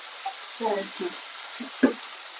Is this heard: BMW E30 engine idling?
no